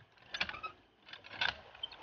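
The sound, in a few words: hand water pump (poso) connected to deep well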